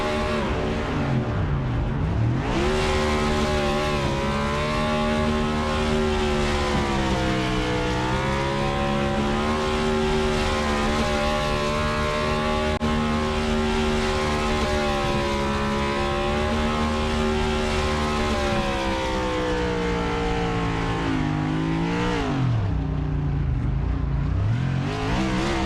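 Mazda MX-5 race car holding a long, loud burnout at Homestead-Miami, its engine revving steadily at high pitch for about twenty seconds before dropping briefly and rising again.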